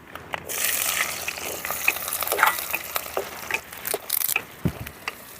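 A cup of chopped small onions frying in oil with mustard and fenugreek seeds for a dried-fish gravy, a close crackling sizzle broken by scraping stirs and sharp pops.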